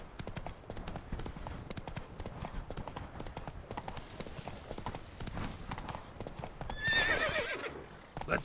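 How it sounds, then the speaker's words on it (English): A horse gallops in The Witcher 3 video game, rapid rhythmic hoofbeats pounding continuously up close before a loud whinny near the end. "Go, Roach, go"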